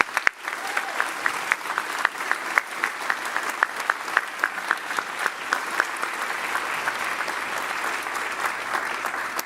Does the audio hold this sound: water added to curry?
no